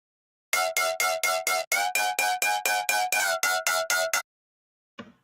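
Synthesized brostep bass with an aggressive, harmonically rich growl, chopped into about fourteen short, evenly spaced rhythmic stabs. It plays loud and alone, then stops abruptly, and a brief faint blip follows a moment later.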